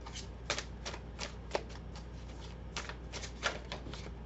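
Tarot cards shuffled by hand in a quiet room, a run of soft, rapid papery riffles and taps in uneven bursts, close and fairly faint, with no voices.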